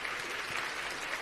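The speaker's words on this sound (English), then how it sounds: "Pretend we are all that awkward person clapping as the plane lands" Conference audience applauding in a steady, even round of clapping, moderately loud and continuous for the short stretch.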